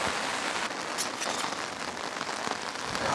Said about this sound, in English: And just like that, it's raining again.